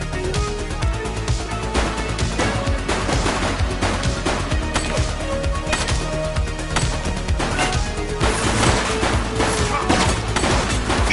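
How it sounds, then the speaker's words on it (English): Rapid gunfire in the police video game The Precinct, a loud, dense fusillade of shots crackling continuously for about eleven seconds over a busy game soundscape. "Shots fired!"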